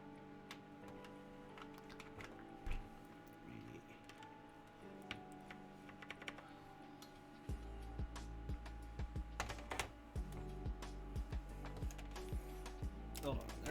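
Keys on a custom mechanical keyboard fitted with SA keycaps are typed close up, with a steady stream of crisp clicks and clacks that grow denser and louder in the second half, over a low background hum.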